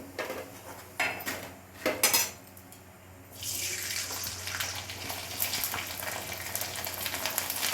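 Food fries in a generous amount of oil in a pan in a home kitchen: a few sharp utensil clinks and knocks come first, then a steady, hissing sizzle takes over and holds to the end.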